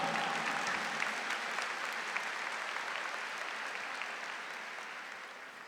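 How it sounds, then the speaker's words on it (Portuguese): Applause from a large crowd of faithful at a religious gathering, a dense wash of clapping that is steady and fairly distant, slowly fading toward the end. "Aplauda enquanto eu tomo água. Aplauda."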